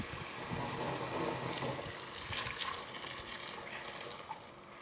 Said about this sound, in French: je vais verser directement l'eau bouillante